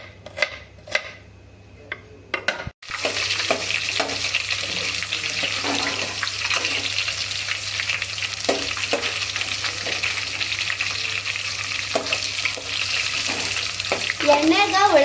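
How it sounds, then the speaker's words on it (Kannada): Onions deep frying in oil give a loud, steady close sizzle after a few brief knocks at the start, with a voice talking over it. "ಎಣ್ಣೆಗ ಉಳ್ಳಾಗಡ್ಡಿಗ ಡೀಪ್ ಫ್ರೈ ಮಾಡಬೇಕು."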